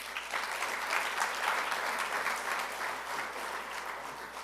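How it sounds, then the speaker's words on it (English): Graduation crowd at a college prep school gives the staff a sustained round of applause, a broad even wash of many hands clapping in a large space, heard from a distance. "Let's give them a great round of applause."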